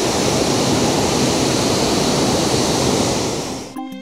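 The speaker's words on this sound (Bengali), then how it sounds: "এই যে ড্যাম থেকে জল ছাড়া হচ্ছে," Water released from Kundala Dam, an arch dam near Munnar in Kerala, rushes with a loud, steady, close roar that holds for nearly four seconds before cutting off abruptly.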